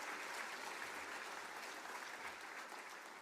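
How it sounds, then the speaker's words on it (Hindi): An audience at a university convocation claps for graduating daughters, a dense, even round of applause that stays fairly quiet and distant throughout, with no talk over it. "थोड़ा ताली हो जाए।"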